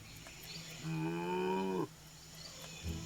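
A vampire cow in LEGO Marvel Super Heroes 2 lets out a single clear, drawn-out moo, about a second long and close up, over a soft game background.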